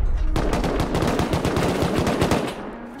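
Rapid automatic gunfire during a compound raid in the survival video game Rust, a long loud burst of evenly spaced shots lasting over two seconds before trailing off, no voices.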